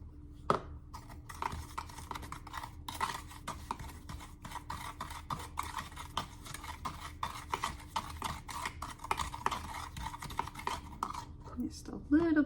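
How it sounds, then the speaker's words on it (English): A thick, grainy paste for lifting sticker labels off plastic containers is stirred and scraped in a bowl, giving steady close scraping and clinking strokes throughout, with a few sharper knocks. "You just kind of gonna mix it together until it gives the consistency that we need."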